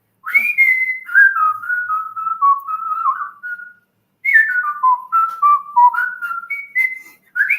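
A person whistles a wavering, descending tune in two phrases separated by a short pause, clear and close with no other sounds.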